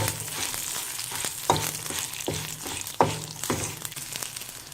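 Snake gourd seed chutney ingredients with grated coconut, chana dal, urad dal and onion fry in a pan, a steady sizzle broken by several sharp stirring scrapes, close and alone.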